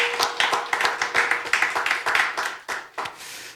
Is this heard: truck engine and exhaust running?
no